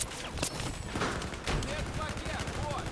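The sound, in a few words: gunfire in the video game Battlefield 4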